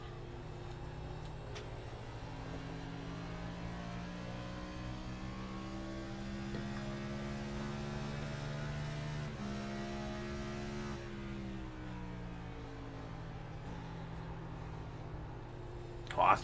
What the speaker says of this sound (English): Austin Reedy waiting a little bit longer, rolling through 1 and 2 to downshift down into 4th gear.